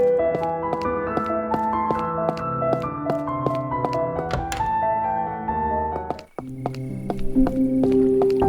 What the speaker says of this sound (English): I love listening to water.